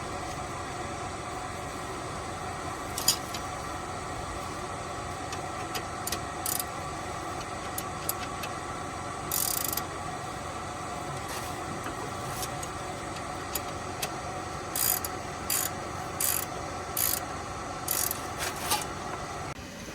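A ratchet tightens 21mm caliper bracket nuts on a 2006 Dodge Grand Caravan during a brake job, with clusters of short clicking bursts over a steady background hum, close and fairly faint, no speech.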